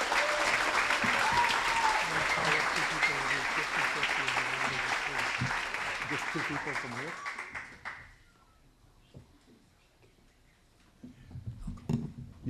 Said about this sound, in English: Let's have a big round of applause for the class of